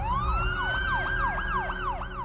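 A loud police siren wails in a rapid, repeating up-and-down yelp close by, with a steady tone and traffic rumble beneath.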